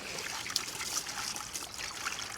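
Water trickles steadily into a container being filled for a pony's feed bucket, a continuous close dribble and splash with no talk.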